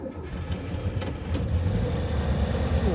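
A VW Beetle 1303 Super Beetle air-cooled engine cranks and catches on a cold start, a few brief bursts settling into a steady, close, loud running rumble.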